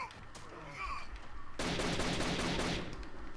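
Rapid automatic gunfire in the video game Rainbow Six Vegas 2, a dense, loud burst of shots that starts abruptly after quieter game sounds and keeps going steadily to the end.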